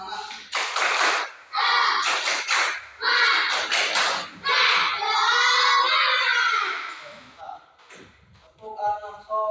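Children in a classroom clapping a rhythmic chant, rapid bursts of hand claps mixed with loud shouted voices in short phrases, close and lively, trailing off near the end.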